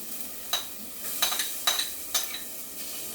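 Ginger sautéing with translucent onions in a pan for lugaw, a soft steady sizzle broken by several sharp metallic spatula scrapes and taps against the pan.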